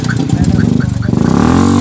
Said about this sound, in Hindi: ये साइलेंसर इतना तेज शोर करते हैं कि हर कोई डर जाता है